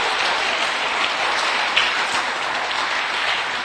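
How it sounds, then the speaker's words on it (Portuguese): A church congregation applauds during a Portuguese-language sermon, a dense, steady wash of clapping that holds for several seconds at close range with no talk over it. "Dá um aplauso a Jesus."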